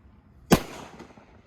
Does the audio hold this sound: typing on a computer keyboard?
no